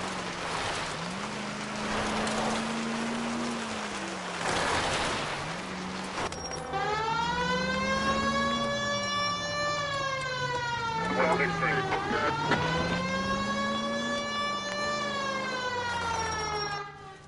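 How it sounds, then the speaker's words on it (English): A police car siren in the video game L.A. Noire wails in rising and falling sweeps, loud and close, with a voice talking over part of it. "The siren might keep people out of your way, Phelps."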